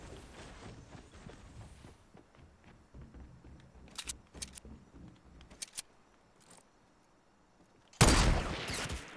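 Sniper gunfire in the video game Fortnite: a few sharp, separated shots mid-stretch followed by a loud burst near the end, over a quiet background of game ambience.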